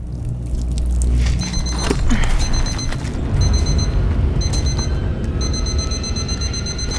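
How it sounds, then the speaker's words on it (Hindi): An alarm clock beeps in short repeated bursts, rising over a loud rumbling background, the beeping growing more continuous toward the end. "मेरी आंख तो सुबह 7 बजे अलार्म के साथ खुली।"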